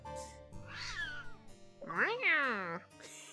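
A cat meowing in the video game Murder Is Game Over: two distinct, fairly close meows, the second longer and louder, heard on their own against a quiet background.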